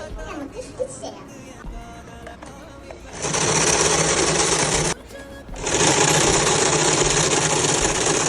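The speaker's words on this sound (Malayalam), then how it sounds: "അപ്പൊ നമ്മൾ പാറ്റേൺ റെഡി ആയിട്ട് നമുക്ക് സ്റ്റിച്ച് ചെയ്യാം." After some quiet handling noise, a sewing machine stitching baby clothes starts up with a loud steady whir, stops briefly, then runs again at full speed, close by and with no talk over it.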